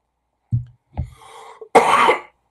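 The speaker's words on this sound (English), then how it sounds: "as annoying as that cough is, it was way worse a few days ago" A few sharp coughs close up, two short hacks followed by a longer, harsher rasping cough, with brief silence between them.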